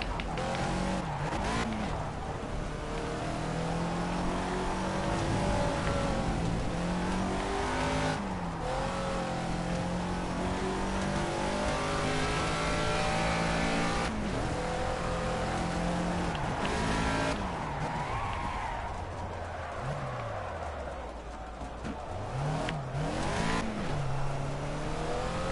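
Caterham Classic race car lapping the Silverstone International circuit, its engine loud and close throughout, revving hard through rising gear changes, lifting and braking into corners with brief tyre squeal, then pulling away again.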